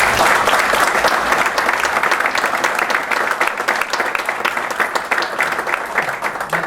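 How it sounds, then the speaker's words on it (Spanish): An audience at a formal academic ceremony applauding award recipients, sustained dense clapping from a crowd in a hall that holds steady and slowly thins toward the end. "demos un aplauso a nuestros recipientarios"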